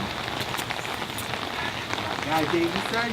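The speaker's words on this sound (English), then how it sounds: "Raining all day today." Steady, dense rain pours down close by and drums on surfaces throughout, a continuous wash with faint voices briefly under it.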